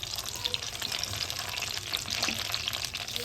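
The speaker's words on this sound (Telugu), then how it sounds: "టమాటాలు అయితే ఇట్లా ఉడుకుతున్నాయి." Halved tomatoes cook in a little oil in a pan, giving a steady, soft sizzle and bubbling with faint crackles throughout, fairly quiet and alone.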